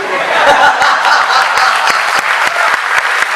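A lively audience claps at a youth poetry recital in Bhopal, dense hand claps with sharp individual strikes standing out, mixed with some chuckling and laughter, loud and close throughout.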